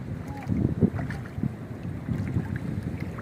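Speedboat engine rumbling on the Padma river, a low continuous drone with wind buffeting the microphone, close and steady.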